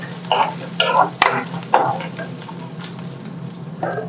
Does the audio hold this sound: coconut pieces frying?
yes